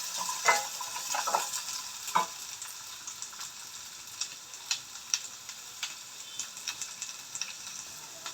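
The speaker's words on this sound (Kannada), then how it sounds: "ಈರುಳ್ಳಿ, ಬೆಳ್ಳುಳ್ಳಿ ಎಲ್ಲ ಹಾಕೊಂಡು ಚೆನ್ನಾಗಿ ಫ್ರೈ ಮಾಡ್ಕೊಳ್ಳೋಣ" Onion and garlic frying in a pan for mutton sambar, a steady soft sizzle with occasional sharp clicks and scrapes of stirring, moderately close and fairly quiet.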